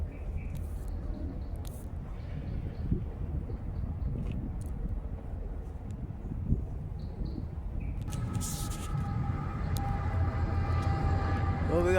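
A CPKC freight train led by a GEVO locomotive passes with a low, continuous rumble, heard from trackside outdoors. Near the end a steady tonal hum from the locomotive rises alongside the rolling noise, and insects chirp faintly in the background.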